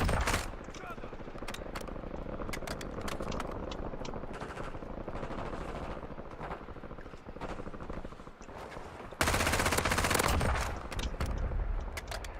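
Rapid automatic gunfire from the FFAR rifle in Call of Duty: Warzone rattles in dense bursts throughout, loud and close, with a sharp louder burst near the end and a player's voice talking over it.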